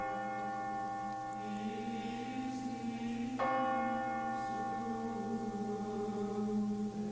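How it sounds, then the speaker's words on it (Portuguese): Church bells toll with long, sustained tones that overlap and fade slowly, resonant and moderately distant, with one sharper strike partway through. "Dobraram os sinos"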